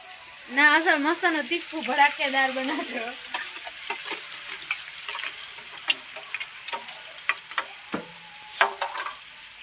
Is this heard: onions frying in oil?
yes